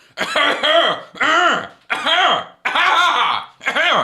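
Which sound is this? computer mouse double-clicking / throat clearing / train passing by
throat clearing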